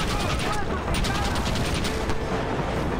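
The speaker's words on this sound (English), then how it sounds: "I just shot one of the guards." A gunshot in Red Dead Redemption, sharp reports over dense game noise and rumble, with a voice talking over the action.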